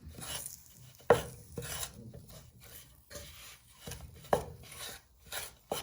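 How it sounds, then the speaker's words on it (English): Beef strips broken apart with a wooden spoon in a pan, giving scattered scraping and knocking strokes with a couple of sharper taps, close and fairly quiet with no talk. "So you want to break them up so they will not stick with your wooden spoon."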